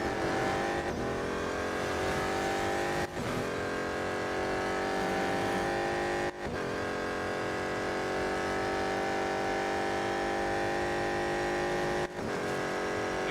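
BMW M Hybrid V8 race car engine in a racing video game, a loud sustained high-pitched roar with steady harmonics, broken by brief gear-shift dips roughly every three seconds, with no talking.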